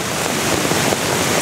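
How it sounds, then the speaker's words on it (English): A waterfall near a misty cedar grove crashes down in a dense, continuous roar of splashing water that stays loud and unbroken throughout. "Another waterfall. 1, 2, 3, and an amazing splash there"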